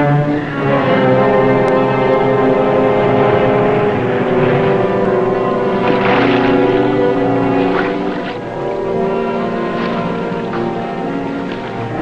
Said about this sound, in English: Plane circling broad on the starboard bow.